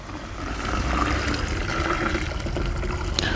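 Maple sap pours steadily from a collecting bucket, a continuous splashing, gurgling stream up close for a few seconds.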